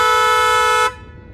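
A car horn, sounded with the remote key fob, gives one steady, loud, bright tone lasting under a second, then cuts off sharply into quiet.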